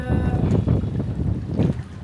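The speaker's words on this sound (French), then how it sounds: "Il y a des nuages énormes au-dessus de moi, il y a beaucoup de vent" Strong wind at the seaside in Lomé buffets the microphone in heavy, rumbling gusts, with a low roar of surf beneath.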